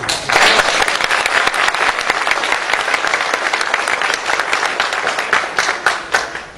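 A large audience claps continuously, a dense wash of applause that stays loud throughout and tapers slightly toward the end.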